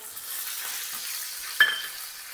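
Onions fry in a pan for a Hyderabadi green vegetable biryani, giving a steady close sizzle with one sharp utensil clink partway through; no voices.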